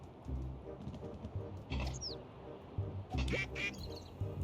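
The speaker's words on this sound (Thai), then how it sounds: "อันนี้เป็ดตัวแรกหรือเปล่าน่ะ" Duckling quacks in the video game Little Kitty, Big City, a few short calls popping up over busy game sounds and background music, with a voice talking lightly underneath.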